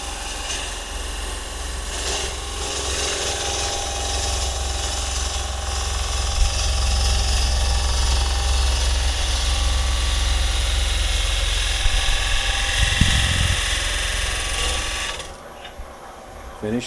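Wood lathe spinning a bowl blank while a gouge cuts with the bevel rubbing, a loud steady whirring drone with a rough cutting texture, close and sustained before cutting off near the end.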